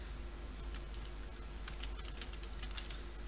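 Light typing on a computer keyboard while writing C# code that uses Excel as a database, a short irregular patter of soft clicks set over a constant steady hum.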